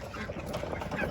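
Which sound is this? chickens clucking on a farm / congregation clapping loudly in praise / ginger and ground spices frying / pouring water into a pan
chickens clucking on a farm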